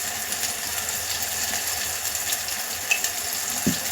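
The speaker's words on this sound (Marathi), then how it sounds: "आता हे मिश्रण आपण व्यवस्थित परतून घ्यायचंय।" Red chili powder, turmeric and salt, mixed with green chili and garlic for a peanut amti, fry in a pan with a steady, close, crackling sizzle and a few small pops; no one speaks.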